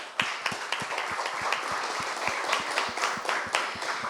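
Steady applause from a conference audience, many hands clapping continuously at moderate volume for several seconds with no talking.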